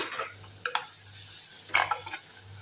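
Ground tomato paste is stirred as it sautés in oil in a clay pot for a village-style fish curry. A few faint scraping strokes come at uneven intervals over a quiet background, with no talking.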